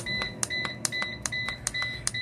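An appliance control panel, in use for drying onions into powder, gives a run of sharp electronic beeps as its timer is set, about six evenly spaced chirps, loud and close with no talk.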